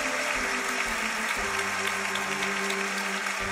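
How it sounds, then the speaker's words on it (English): An audience at a Nigerian comedy show claps in a dense, steady patter that carries on evenly, with faint voices beneath it. "I beg make una clap for unasef"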